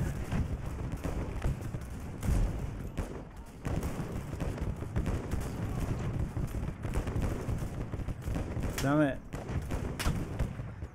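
Rifle fire and battle noise from the WWI video game Over The Top, with a steady rumble of gunfire and thuds, scattered shots across the mix and someone talking over it.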